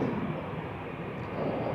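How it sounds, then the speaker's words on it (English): An Airbus airliner taxiing at Amsterdam Schiphol Airport gives off a steady, broad engine rumble and whine, moderately loud and continuous throughout with no voices. "now what is the the Airbus going to do? The answer is it's coming this way"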